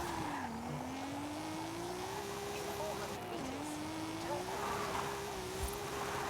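A Toyota Supra drifts in the video game Forza Horizon 5, its tires squealing in a long, wavering tone over a continuous engine drone. The sound is fairly quiet, and a voice talks over it.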